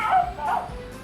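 A toy puppy gives short, high, squeaky yips and whimpers in quick succession, close and fairly loud, with no talk over them.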